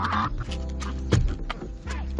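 A large, bold rooster on a farm with chickens and chicks makes a few close, throaty clucks and calls, with short pauses between them.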